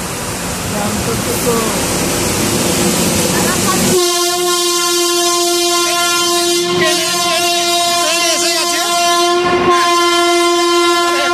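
A train rumbles along with steady rushing noise, then a loud, sustained horn blares close by and holds for several seconds with brief breaks.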